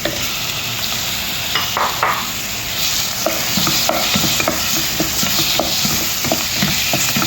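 Tomato, green chili and coriander leaves sautéing in a pan for a drumstick dal fry, a loud steady sizzle with repeated spatula scrapes and clicks throughout, no talk.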